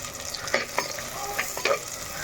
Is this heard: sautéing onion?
yes